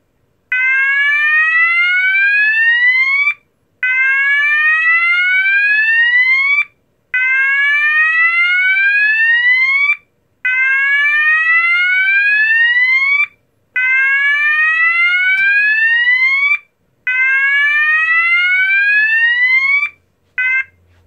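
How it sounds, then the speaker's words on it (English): An E2S A100DC24R alarm sounder plays the Australian/New Zealand slow whoop tone, six loud rising sweeps of about three seconds each, separated by short gaps of silence, with nothing else heard. "Australian and New Zealand slow whoop, which is 500 Hertz to 1200 Hertz."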